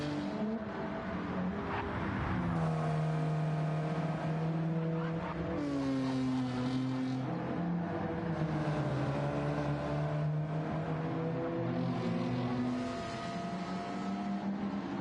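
An Alfa Romeo 4C race car in Gran Turismo 7 screams through rising and falling revs, its engine tone climbing and dropping with gear changes, loud and continuous throughout.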